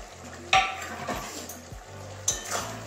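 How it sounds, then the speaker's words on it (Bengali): Coriander leaves stirred into a potato, aubergine and cauliflower-stalk curry, with a soft sizzle under a few spoon scrapes and knocks against the pot. "ধনে পাতাটা ভালো করে মিশিয়ে নেব।"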